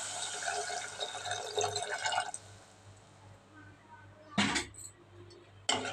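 Water is poured into curry in a cooking pot, a steady splashing stream for about two seconds, followed by a quieter stretch and two brief sharp clatters.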